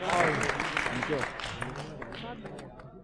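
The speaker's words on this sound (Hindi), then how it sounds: "विनीत चौहान, स्वागत कीजिए जोरदार तालियों के साथ विनीत चौहान जी का" Applause from an audience at a Hindi poetry recital, moderately loud and fading slightly, with a voice speaking in Hindi over it.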